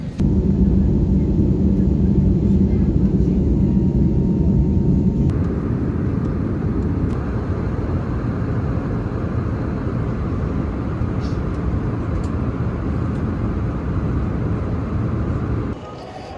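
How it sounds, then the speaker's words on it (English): Inside the cabin of a new Frontier Airlines passenger jet, a loud, steady broadband roar fills the air throughout, its low rumble easing slightly after the first few seconds. "the plane I was on was the newest in Frontier Airlines fleet"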